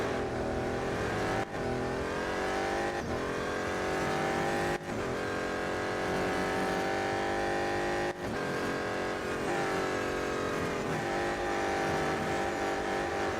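BMW M Hybrid V8 race cars roar through a race in Real Racing 3, with continuous loud high-revving engine drones that rise and fall, broken by a few quick gear-shift dips, and no talk.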